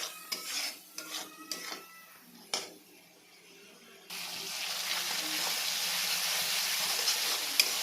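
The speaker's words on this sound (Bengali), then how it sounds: "আমি হলুদ আর লবণ দিয়ে আমি মশলাটা ভেজে নেব" A spice paste of chillies, turmeric and salt frying in a pan, giving a steady hissing sizzle that starts abruptly after a few seconds of quieter clatter and scraping.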